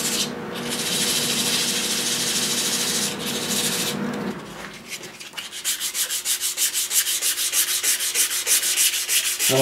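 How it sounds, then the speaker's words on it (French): Abrasive sanding on a natural-edge wooden bowl spinning on a wood lathe: a steady broad rasp for about four seconds, a short pause, then rapid rhythmic scrubbing strokes, close and loud with no talking. "Enlever les petits cernes de sablage."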